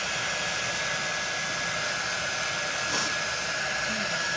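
A hair dryer runs steadily at close range for the whole stretch, a constant broadband whoosh with a thin whine above it and no talking.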